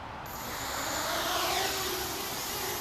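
A Cheerson CX-91 Jumper quadcopter drone lifts off, its motors rising into a steady high whine and rushing propeller whir that swells and holds, fairly loud and with no talk.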